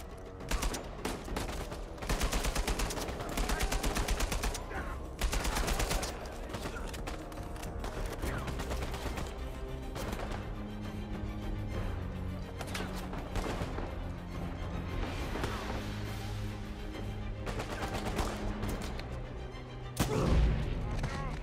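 Bursts of automatic gunfire and scattered single shots in the video game Uncharted 4, including a sniper shot, play in a busy stretch of firefights with heavy impacts toward the end, at moderate loudness.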